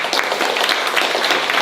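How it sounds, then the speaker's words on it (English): A round of applause from the audience at a film industry panel, brief and steady, with many hands clapping densely at close range and no talking. "So let's give a round of applause for Kainoa."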